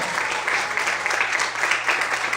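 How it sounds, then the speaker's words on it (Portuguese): A church congregation applauding during a Portuguese-language morning service, a steady, dense wash of clapping that holds at an even level for a couple of seconds with a low hum underneath. "Aplauda o Senhor nessa manhã, aleluia."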